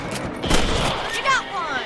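A rifle fires at a rabbit while hunting in the video game Red Dead Redemption, a loud gunshot followed by a short ringing tail, with in-game voices around it.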